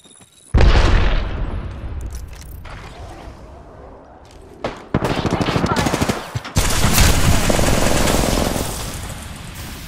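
A grenade goes off in Apex Legends, a loud sudden boom followed by rapid bursts of gunfire and clattering mechanisms, with brief game voice lines around it.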